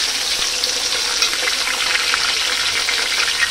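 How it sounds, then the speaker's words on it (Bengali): Potatoes frying in a pan with a little salt and turmeric give off a steady, close sizzle with faint stirring scrapes, loud and unbroken throughout, with no voices. "সব ভেজে নিচ্ছি একটু সামান্য লবণ হলুদ দিয়ে, ভালোভাবে লাল লাল করে ভেজে নেব।"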